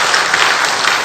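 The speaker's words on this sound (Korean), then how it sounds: "함께 전도하신 분들을 위해서 박수로 격려해 주시면 감사하겠습니다." A church congregation claps together in encouragement, a dense even burst of applause filling the room for about a second, with no voices over it.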